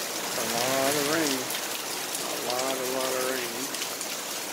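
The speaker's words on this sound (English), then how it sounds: "A lot of rain." Heavy storm rain pours steadily as a continuous loud hiss, and someone talks over it in two stretches.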